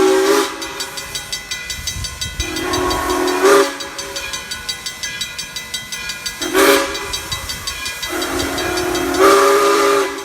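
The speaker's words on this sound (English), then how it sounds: "it's beginning to move, blowing its whistle so they know" Steam locomotive Frisco 1630 at A Day Out with Thomas, sounding several loud long whistle blasts between rhythmic chuffing exhaust beats as it pulls away, close and dominant with no talk.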